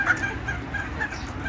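Native chickens feeding on cabbage leaves, giving soft, scattered clucks and murmurs close by over a steady outdoor background.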